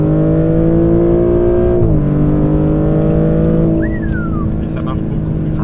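Inside a Maserati GranTurismo Modena V6 490 hp, the engine sends a loud, steady tonal drone through the cabin, dipping briefly with a gear change, while people talk over it.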